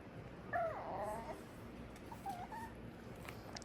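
Schnauzer dogs whimpering at a kennel: a couple of faint, high, whining cries, one longer and one brief, over a steady low background.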